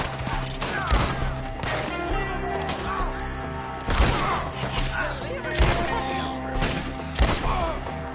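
Gunfire from a PS4 video game, a hunting scene in the trees, comes in sharp, repeated bursts and thuds scattered across the stretch, mixed with shouting voices and game sound.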